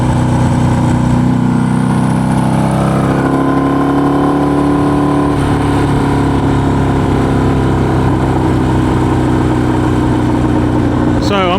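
Bagger motorcycle engine ridden fast through a corner, a steady mid-pitched drone that rises and shifts as the bike leans in, heard close up with wind and talk over it.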